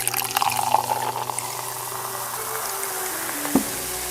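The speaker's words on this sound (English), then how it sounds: "Now, let's add some vinegar." Vinegar is poured onto baking soda, giving a close, steady liquid pour with bubbly fizzing. A small knock near the end.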